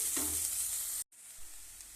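Tomato paste frying in a pan for a cauliflower palya, a loud, steady hiss of sizzling that cuts off briefly and then resumes more softly, close by with no voices.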